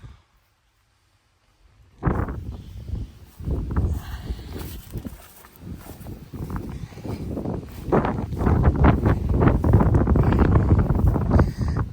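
Gusty wind buffets a barn holding a classic car collection, rough blustery rumbles hitting the microphone in surges after a couple seconds of quiet, growing stronger and near-constant toward the end.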